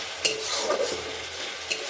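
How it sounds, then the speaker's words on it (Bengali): Spices are stirred into fried onions in a hot pan, a soft continuous sizzle with a few light scrapes of the spoon. "পেঁয়াজটা ভাজা হয়ে গেছে, এবারে মশলাটা দিয়ে এবারে কষিয়ে নেব।"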